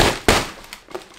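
A plant pot holding a stuck philodendron is smacked during repotting, two sharp close knocks followed by a fainter tap, each decaying quickly.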